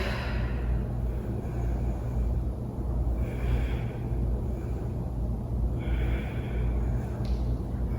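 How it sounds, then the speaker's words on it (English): Slow, deep breaths during a yoga session for injury reduction, with several long airy inhales and exhales drawn out at a steady, unhurried pace, close and clear with no talking. "Deep breathing."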